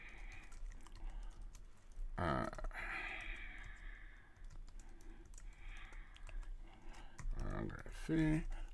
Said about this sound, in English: I'm just simply going to type my name in